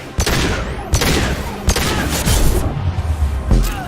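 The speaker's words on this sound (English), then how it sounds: "Protocol 4, deploy suppressive fire!" Rapid bursts of sci-fi suppressive gunfire from the Mass Effect 2 shooter, loud and close, with sharp repeated shots and booming impacts in an irregular volley and no talking.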